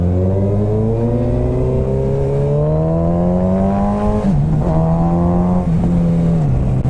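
A 2008 Suzuki Hayabusa motorcycle engine revs loud and close while riding, pitch climbing steadily through the gears with brief dips at shifts, a continuous strong drone throughout.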